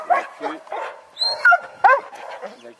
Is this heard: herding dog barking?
yes